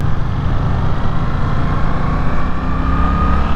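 Suzuki GSX-8S naked sportbike cruising on the freeway, a steady loud broadband engine and wind roar with constant rumble throughout, no pauses or speech.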